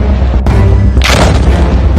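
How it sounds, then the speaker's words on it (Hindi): Explosions in news footage of the Israel–Hamas war, a deep booming blast followed by a second sharp burst and rumbling aftermath, loud and close, with no voices. "चौथा धमाका"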